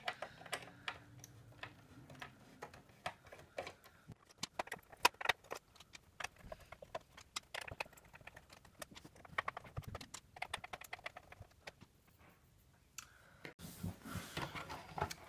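Screws are worked out of a PlayStation cover by hand, with scattered small clicks, taps and metallic ticks spread irregularly over a quiet stretch, followed by a brief rustle at the end.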